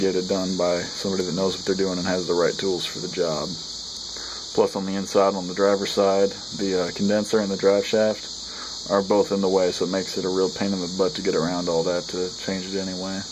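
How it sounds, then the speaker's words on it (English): Cicadas outside a house give a steady high-pitched buzzing drone that runs constantly in the background, heard from a front porch beneath someone talking at length nearby. "hear the cicadas going nuts in the background"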